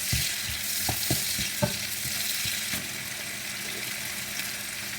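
Indomie noodles fry in a pan with bell pepper, giving a continuous sizzle while a utensil stirs and scrapes with several soft knocks in the first couple of seconds.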